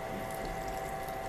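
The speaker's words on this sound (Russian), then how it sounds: "немножко заливаем воды" Water runs steadily into a pot of frying pumpkin and vegetables for soup, a continuous close splashing hiss.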